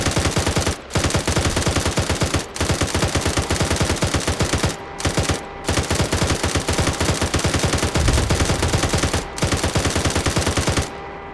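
A vehicle-mounted gun in Arma 3 firing long, loud, close bursts of rapid shots, broken by short pauses and a slightly heavier boom near the end.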